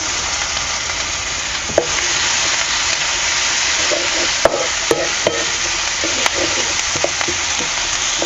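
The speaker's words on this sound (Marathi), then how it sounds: "आलं लसूण सुद्धा परतलेले आहे" Ginger and garlic sauté with softened onion in a pan, a loud continuous sizzle and hiss running throughout, broken by occasional sharp clicks and scrapes of a spatula against the pan.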